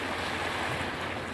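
Large sea waves churn in a dense, continuous broadband roar, loud and close, with a windy rush and no voices during the short stretch.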